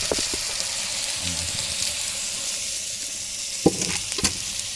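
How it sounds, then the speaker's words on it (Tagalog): A blend of glutinous and regular rice going into a hot pot for Filipino lugaw, with a steady sizzle throughout and a couple of brief, sharper knocks near the end. "Ilagay na natin yung bigas."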